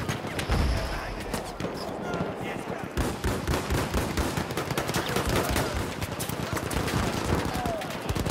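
Sustained video game gunfire from a Mondragon rifle and other weapons on the Tsaritsyn map, a dense, loud barrage of rapid overlapping shots and bursts with a voice talking over it.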